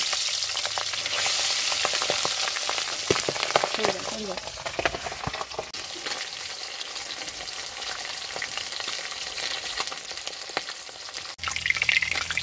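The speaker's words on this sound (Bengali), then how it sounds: "তেল গরম হয়ে গেছে, হলুদ লবণ মাখিয়ে মাছগুলোকে ছেড়ে দিচ্ছি।" Pabda fish rubbed with turmeric and salt frying in hot oil, a loud crackling sizzle up close with bursts of spatter and occasional utensil clatter.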